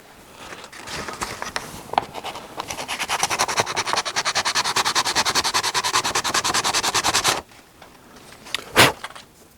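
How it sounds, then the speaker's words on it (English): A new wooden violin bridge is sanded by hand with rapid, rhythmic back-and-forth rasping strokes close up. Light handling noises come before and after, then a short louder knock. "Might have to sand a little bit of it off."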